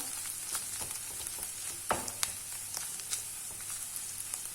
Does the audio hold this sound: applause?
no